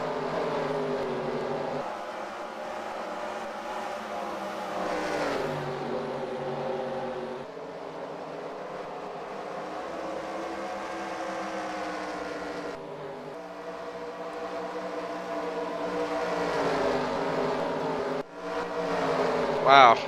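Race cars in a Cars racing video game, several engines droning and whining with pitch shifts as they change gear, continuous and fairly prominent, with a commentator-like voice talking over them.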